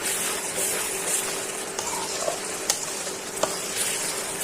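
Spice paste fries with peeled garlic cloves in a pan, a constant close frying hiss broken by a few small pops and stirring scrapes.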